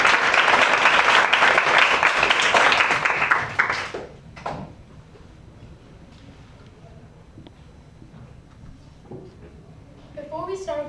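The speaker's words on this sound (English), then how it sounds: "Can we please have a round of applause for them?" A crowd applauds at the Dubai Cares exhibition at Expo 2020. Dense, loud clapping fills the first four seconds, then fades quickly into a quiet hall, and a voice begins briefly at the end.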